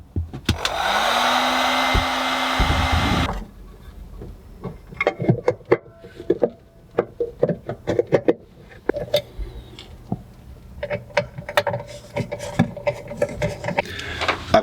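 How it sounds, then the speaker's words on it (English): A heat gun blows loud and steady for about three seconds while shrinking heat-shrink tubing over AC wires during a boat watermaker install, then cuts off, leaving scattered clicks, taps and handling noises. "Now that I have the wires connected here, the AC wires, I'm gonna just heat shrink them just to help protect them from corrosion."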